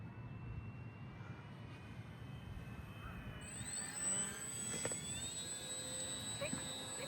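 An FMS Ranger 1220mm RC plane with added flaps flies overhead as the throttle is opened, its faint electric whine rising in pitch and sweeping upward midway, heard from a distance over outdoor background noise.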